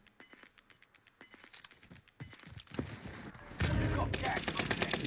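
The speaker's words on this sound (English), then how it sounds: "He's getting shot up by the team." Video game shootout gunfire crackles in rapid bursts, sparse at first then building into dense continuous firing near the end, with faint background noise.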